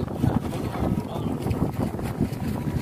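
Gusty wind buffets the microphone outdoors under dark storm clouds while kites are flown, a steady low rumbling roar with irregular bursts and no clear voices.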